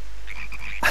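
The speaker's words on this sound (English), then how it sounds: "We got them punk frogs." Frogs croak in the video game Final Fantasy XIV: Endwalker, a series of close, rhythmic croaks over a steady low hum, ending in a louder burst.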